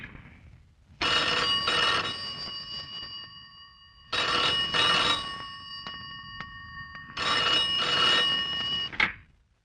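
A telephone bell rings three times in long, loud, steady bursts with short pauses between them, alone with no talk.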